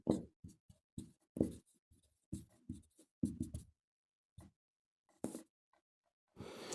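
Marker or chalk strokes on a board while an example sentence is written out, short scratchy bursts separated by pauses, close and fairly quiet, with no voice over them.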